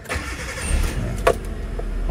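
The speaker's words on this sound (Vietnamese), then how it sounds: "Con máy nổ à, đề một cái nổ liền luôn nha" A 2009 Hyundai Getz, a Korean-import hatchback, starts on the first crank, a short cranking burst followed by a sharp catch, then the engine settles into a steady low idle, with no one speaking.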